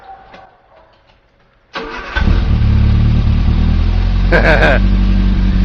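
A car engine cranks and catches, then settles into a loud, steady idle with a brief rev; faint talk precedes the start.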